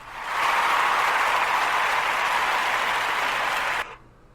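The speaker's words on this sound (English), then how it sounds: "You guys all give yourself a round of applause out there." A crowd gives a round of applause, a dense, steady wash of clapping that holds loud for nearly four seconds and then cuts off abruptly.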